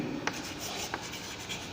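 Chalk or marker strokes on a classroom board during a Class 11 physics lesson on units and dimensions, a soft continuous scratching with a few sharper taps spaced through the short stretch, close and moderately quiet, with no talking over it.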